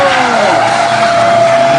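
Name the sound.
drift car engine revving at a tuning show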